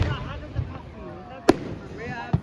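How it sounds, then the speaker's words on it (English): Carnival fireworks at the opening of the Swanage Carnival burst with a sharp loud bang mid-clip and another near the end, plus a softer thump early on, while excited voices talk over the outdoor crowd noise. "So the fireworks are just giving a proper send-off to the start of the Swanage Carnival."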